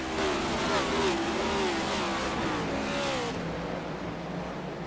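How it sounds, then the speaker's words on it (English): Race cars accelerating at Bristol Motor Speedway after a green flag restart, engines rising and falling in pitch as the field passes, loud and sustained for several seconds before easing off, with no talking. "Green flag racing again at Bristol."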